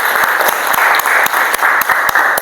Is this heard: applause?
yes